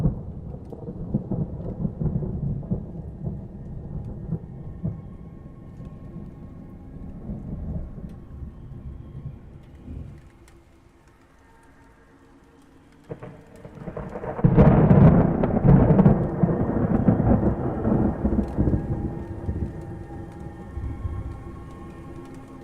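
A thunderstorm rolls over a village in a video game, with steady rain under low rumbling thunder that fades briefly, then swells into a louder, closer roll before easing off again.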